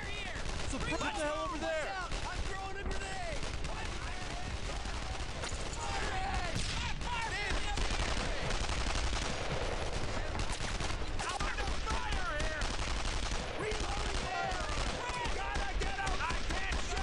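Dense, continuous gunfire from rifles and machine guns in the World War II shooter Brothers in Arms: Earned in Blood, loud and unbroken with overlapping shots across the whole stretch.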